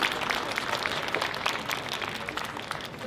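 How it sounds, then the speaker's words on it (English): Graduates' families and guests applaud at a CU Boulder history department spring commencement, with a dense, steady round of many hands clapping that is sustained and fairly distant throughout, with no talking. "give your people a big round of applause"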